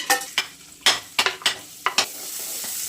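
Finely chopped onion sautés in about a spoon and a half of hot oil in a kadhai, a steady sizzle broken by several sharp, close scraping stirs at an irregular rhythm, with no talking.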